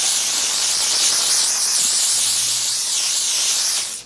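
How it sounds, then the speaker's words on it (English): Got To Be high insta hold hair spray sprays in one steady, close, loud hissing burst lasting about four seconds before cutting off abruptly. "I take some Got To Be high insta hold spray,"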